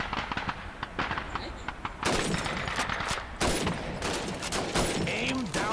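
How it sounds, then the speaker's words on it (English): Rifle fire at bottles and plates on a Soviet army shooting range in Call of Duty 2, a busy run of cracking shots with glass shattering amid background range noise and a faint voice. "Shoot those bottles and plates."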